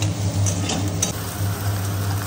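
Onions and whole garam masala frying in oil, a dense continuous sizzle close up with a low steady hum underneath, no speech.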